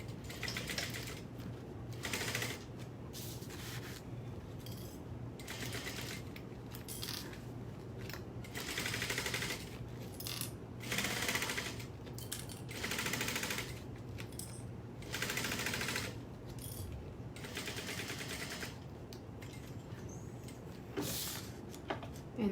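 A sewing machine top stitching fabric pieces at stitch length 4 runs in repeated short bursts, stopping and starting with brief pauses between runs. The close, rattling mechanical chatter continues for over twenty seconds.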